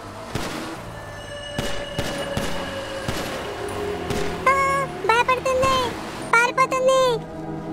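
Cartoon gunfire aimed at a lion: several sharp bangs early on, then animated character voices talking excitedly over scattered shots.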